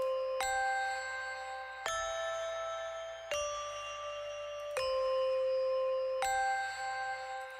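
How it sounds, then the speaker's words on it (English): A heavily compressed synthesized bell rings five times at a steady, spaced rhythm, each strike bright and ringing with a long sustained tail, loud and alone. "This is like the fattest bell ever."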